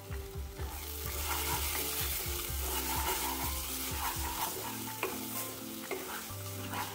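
Masala and green peas for matar paneer fry in oil in an open pan, giving a steady close sizzle with repeated scrapes and stirring strokes from a spoon throughout.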